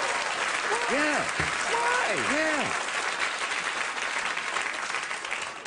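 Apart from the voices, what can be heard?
studio audience applause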